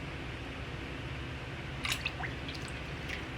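Water drips and trickles from a piece of soaked driftwood lifted out of a tank, a brief cluster of small splashy drops over a quiet steady background hiss.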